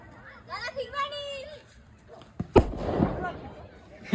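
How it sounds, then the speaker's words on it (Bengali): A circle bomb firecracker set off in a playground field on a Shab-e-Barat morning bursts with a sharp nearby bang followed by crackling, after a voice and other voices speak in the background. "এখন সার্কিল বম ফাটাবে সকালবেলা"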